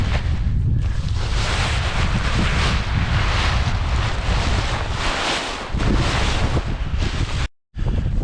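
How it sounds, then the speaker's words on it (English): Strong wind outdoors at a kiting spot, a loud continuous roar buffeting the microphone with gusty swells and a brief cut near the end, no talk. "Now the wind's picking up a little bit."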